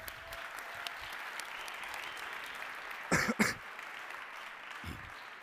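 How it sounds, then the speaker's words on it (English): Faint, distant applause for helpers at a Lisk relaunch event, a thin steady patter interrupted midway by a couple of loud close coughs or throat clears and a later low thump. "Maybe one round of applause for our helpers here."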